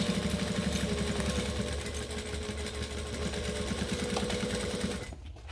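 Close by, a sewing machine stitches the outer edge seam of a bag at 2.5 stitch length, running in a fast steady mechanical chatter for about five seconds before stopping abruptly.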